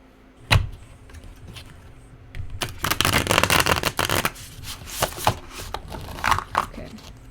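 Tarot cards are shuffled by hand, a crisp riffling burst in the middle flanked by scattered taps and flicks of the deck, close and fairly loud.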